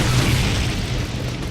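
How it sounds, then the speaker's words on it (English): A grenade goes off in Brutal Doom with a loud, heavy boom, a thick rumbling blast that fills the whole short moment before slowly thinning out. "One of the other wonderful things you get courtesy of Brutal Doom is grenades"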